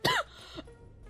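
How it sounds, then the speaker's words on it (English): A single short cough, sharp and close, followed by a fainter throaty rasp and then quiet. "I keep coughing for no absolute reason"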